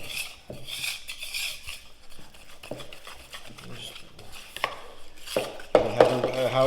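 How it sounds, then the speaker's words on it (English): Biscuit batter with milk being whisked in a bowl for cinnamon raisin biscuits, a soft repeated scraping and tapping rhythm, fairly quiet, with a louder clatter of utensil against the bowl near the end. "However you whisk, just whisk it real good so it's well combined."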